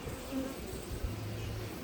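Honeybees buzz softly and steadily nearby at a hive during the sunflower honey flow, a faint droning hum with one louder insect passing close.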